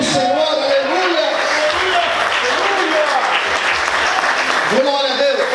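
A church congregation claps and applauds during a sermon, a dense sustained wash of clapping that fills the room while a preacher's voice carries over it throughout.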